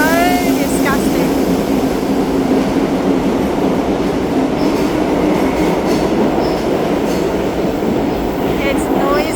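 A Sydney Tangara train runs loudly and steadily throughout, its dense rumble and rattle joined by squealing wheel tones, with the clatter of the old, noisy carriages filling the whole stretch.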